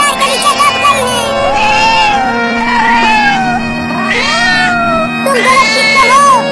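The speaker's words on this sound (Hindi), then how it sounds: "वो देखो, वो बिल्ली कार के नीचे दब गई है" A cartoon cat trapped under a car meows over and over, loud and close, with high, wavering, plaintive cries running through the whole stretch.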